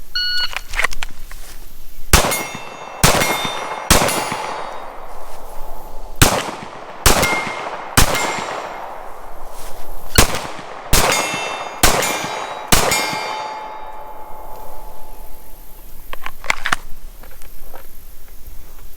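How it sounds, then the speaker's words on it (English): Pistol shots ringing off steel targets at 40 yards, about ten sharp clangs with metallic ringing tails in an irregular string, loud and clear with no talk. "let's just see if I can get 8 shots on target"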